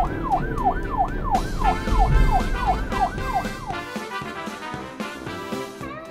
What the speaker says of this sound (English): This is the police car.